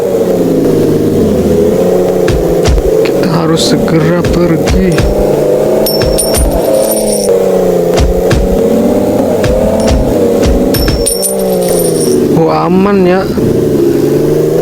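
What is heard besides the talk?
car engine driving away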